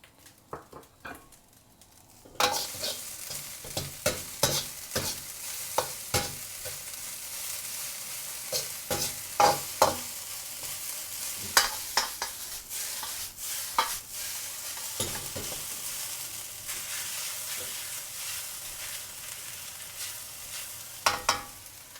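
Chinese special fried rice being stir-fried in a pan, with a steady close sizzle broken by repeated sharp scrapes and clatters of the spatula tossing the rice, starting after a brief quiet moment and continuing throughout.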